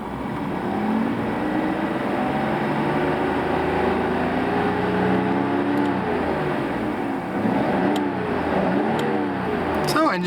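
A 1989 Nissan Skyline GT-R with 195,000 km runs steadily, its engine note droning continuously with slight rises in pitch, loud and close throughout.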